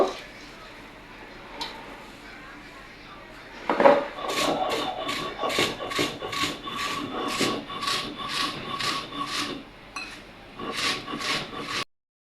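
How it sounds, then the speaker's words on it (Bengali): Fried puffed rice being ground by hand, a close, steady rasping rub that starts faintly and then becomes a loud, regular run of grinding strokes before stopping abruptly near the end. "দেখুন আমি মুড়ি বেটে নিচ্ছি।"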